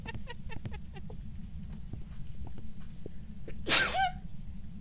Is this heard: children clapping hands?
no